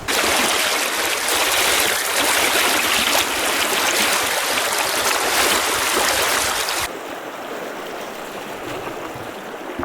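Steady rushing river water during a solo wading crossing, loud and continuous broadband flow close by, dropping noticeably in level after about seven seconds as the current around the crosser changes.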